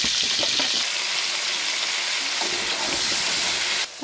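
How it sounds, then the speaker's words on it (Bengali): Salted potatoes fry in hot oil in a wok, giving a loud, continuous sizzle with a few stirring clatters, then the sound drops slightly at the very end. "আলুটা লবণ মেখে নিচ্ছি, আলুটা ভেজে নিব।"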